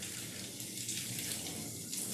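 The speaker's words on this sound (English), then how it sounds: "turn the water pressure nice and low, and now I can get his head wet" Low-pressure water runs steadily from a grooming tap onto a doodle dog's head during a soap-free wash, a soft continuous hiss and splash with no talk over it.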